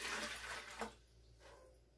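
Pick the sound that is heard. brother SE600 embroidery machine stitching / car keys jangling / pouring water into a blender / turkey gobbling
pouring water into a blender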